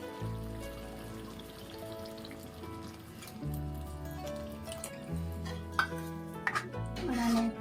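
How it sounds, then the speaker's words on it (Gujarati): Dhokli gravy with sour buttermilk stirred in a pot, with soft scraping and occasional utensil clinks over a steady tonal background hum. "થોડીક વાર માટે આવી રીતના મિક્સ કરતું રહેવાનું છે એટલે કે છાશ ફાટે નહીં"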